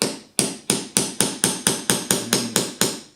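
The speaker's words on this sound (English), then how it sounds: "I'm just using a little ball pen hammer here" Small ball pein hammer striking a metal punch while setting glazing pins into a door or window frame, about ten sharp, evenly spaced metallic taps, close and loud.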